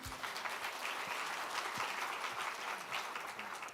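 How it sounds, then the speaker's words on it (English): A forum audience at an East Asia cooperation event breaks into steady, sustained applause after a keynote speech, an even wash of many hands clapping heard from a slight distance. "please join me in giving him another big round of applause"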